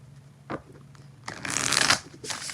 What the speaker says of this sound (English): 4 shuffles for Shimmy Cocoa Puff.